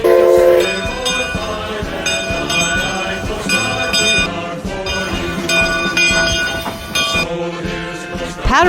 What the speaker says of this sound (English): the Oregon Scenic Railroad's 100-year-old McLeod 25 chugs past.